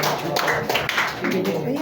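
A church congregation claps together at a Filipino evangelical service, a steady patter of many hands throughout, loud and close, with voices mixed in.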